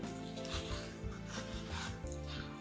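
A spoon scrapes and scoops balls out of watermelon flesh, a series of close, soft rubbing and wet scraping strokes in uneven rhythm.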